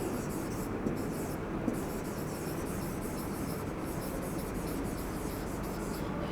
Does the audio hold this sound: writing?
yes